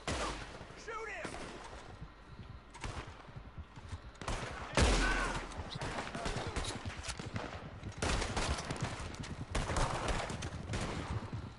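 Sustained shootout in the Red Dead Redemption 2 video game, with repeated close and distant gunshots cracking in overlapping volleys throughout, mixed with shouting voices and battle noise.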